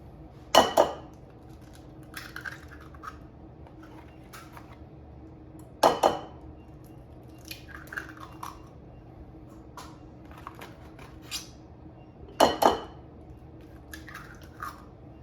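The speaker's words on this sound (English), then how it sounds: "So I'm adding 4 eggs" Four eggs cracked and dropped into almond flour banana bread batter, heard as three sharp taps against a bowl spaced several seconds apart, each followed by soft wet squishing and faint clinks.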